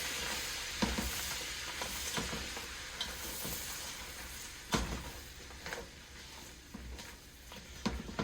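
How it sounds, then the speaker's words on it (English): Shrimp cooks in a pan with browned garlic, a soft, continuous sizzle broken by occasional sharp clacks and stirring scrapes, quiet and close, with no one talking. "Once the garlic has started to brown, you're going to add in the shrimp and cook that."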